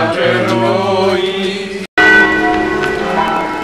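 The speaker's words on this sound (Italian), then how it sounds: "I pellegrini sono stati accolti dal suono delle campane" Church bells ring festively in the main square of Canale d'Agordo as pilgrims arrive, loud overlapping tolls with long resonant hum, a brief dropout midway, then ringing resumes unbroken.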